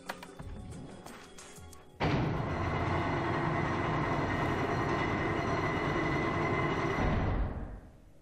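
In the video game 999: Nine Hours, Nine Persons, Nine Doors, a few clicks precede large shelves moving: a loud, steady mechanical rumble with grinding, rolling tones starts suddenly, holds for several seconds, then fades; no talking.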